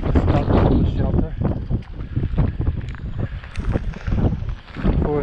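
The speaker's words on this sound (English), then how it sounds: "Wind's right in our face coming out." Strong wind buffets the microphone in the Wicklow mountains in November, a continuous loud low roar with gusty swells throughout, and voices speak over it at times.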